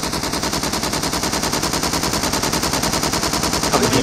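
Loud, rapid automatic gunfire in the SCUM video game, an unbroken string of evenly spaced shots close up for the full length.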